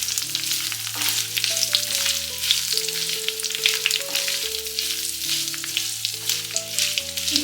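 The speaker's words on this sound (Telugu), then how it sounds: "ఈ ధనియాలు వేగిన తర్వాత మనం దీనిలో చిన్నగా కట్ చేసి పెట్టుకున్న బీట్రూట్ ముక్కలను వేసుకోవాలి. వీటిని మనం బాగా వేయించుకోవాలి." Small chopped beetroot pieces frying in a pan with coriander seeds, a steady crackling sizzle with an occasional stir, heard alone under background music and without talk.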